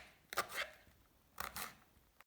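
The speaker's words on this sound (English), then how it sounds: "And you're also chopping some spring onions" Two quick pairs of knife strokes on a cutting board as spring onions, peppers and other vegetables are chopped for Afghan bolani filling, faint and close with pauses between.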